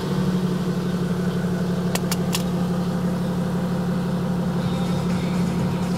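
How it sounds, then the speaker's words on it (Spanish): A Toyota HDJ80 engine idles cold, a steady, close, mid-pitched drone with even vibration throughout and a few faint clicks near the middle. "ahí vemos a ralentí, motor frío"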